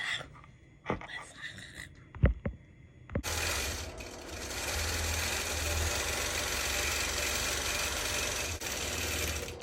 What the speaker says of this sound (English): I stitched in the ditch on all the triangles so I could lock it in